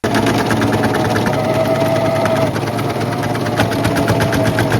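A serger sewing machine runs steadily while stitching and finishing raw fabric edges for a patchwork maxi skirt, a loud, close, fast continuous whirring chatter with no pauses and no talking.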